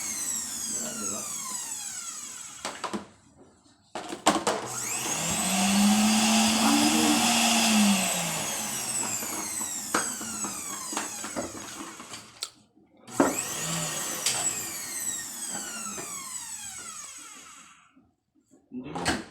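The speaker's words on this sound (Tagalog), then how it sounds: "Paikutin mo nga yung drill." An electric drill spins up with a rising and falling motor whine, close and loud, cutting out and restarting several times, with voices talking around it.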